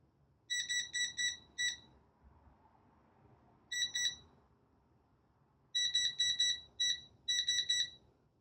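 A non-contact voltage detector held against a live wire in a ceiling junction box gives shrill electronic beeps in quick bursts of several pulses, separated by quiet gaps, close and clear with no talk.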